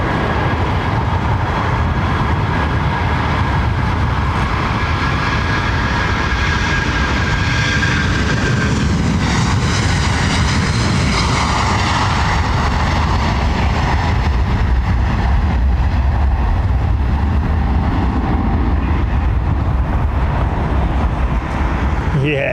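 Modern jet airliner taking off at London Heathrow Airport, a loud, steady roar that swells and sustains for over twenty seconds, heard outdoors from nearby with faint talk.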